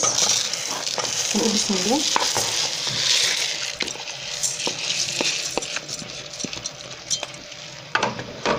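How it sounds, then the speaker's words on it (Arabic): Half a kilo of rice added to a hot pot for a fish sayadieh dish and stirred, giving a continuous sizzle with repeated scraping and clicking strokes; someone speaks briefly early on. "طيب نبدأ بقى نضيف عندي نص كيلو رز"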